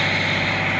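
A heavy excavator engine labours under a full hydraulic stick-lever pull during a low-power check, giving a steady, loud, close-up droning rumble with no pauses.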